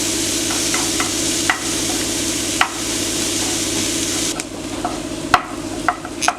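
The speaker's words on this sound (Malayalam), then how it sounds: "ഇതൊരു ഗോൾഡൻ കളറാവണം, അതുവരെ നമ്മൾ വഴറ്റണം." Ingredients sautéing in a pan until golden for a giant gourami fry dish: a steady close sizzle runs throughout, broken by periodic scraping stir strokes and a few sharp clacks of the spoon against the pan.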